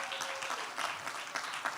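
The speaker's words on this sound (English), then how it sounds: "Please, can you give yourselves a round of applause?" Audience at a Pan-African leadership graduation ceremony applauding, a fairly quiet, steady patter of many hands clapping together, somewhat distant.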